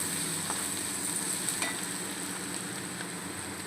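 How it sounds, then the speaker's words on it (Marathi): Garlic sautéing in oil for a ridge gourd curry, a faint, even sizzle with light stirring clicks throughout. "तेलामध्ये चांगलं असं लसूण आपल्याला परतवायचं"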